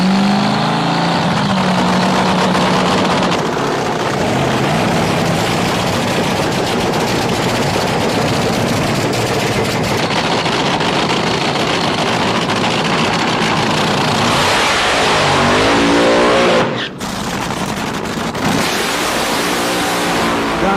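Drag racing cars, the stripped-down rail-style machines of the F.E.D.S. event, roar loudly and continuously down the strip, engines blaring with a brief cut near the end before the roar resumes.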